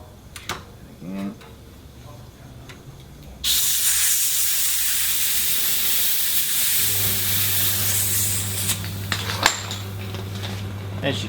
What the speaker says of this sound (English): As you can hear, air leaks out.